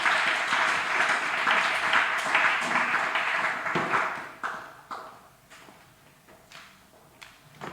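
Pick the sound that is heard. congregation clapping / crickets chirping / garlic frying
congregation clapping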